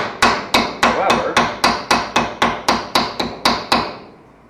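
Close, loud taps of a soft mallet on bent sheet metal, tightening a floor-framing bend: about fourteen quick, regular blows with a slight ring that fades out at the end, no voices.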